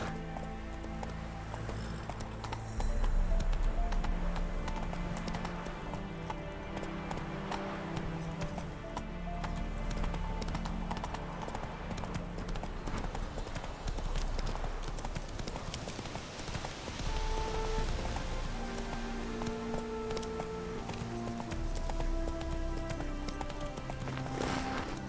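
Roach the horse in The Witcher 3 galloping, a continuous rhythmic clip-clop of hooves running on and on, mixed with faint jingling tack and a brief whinny, beneath a game soundtrack.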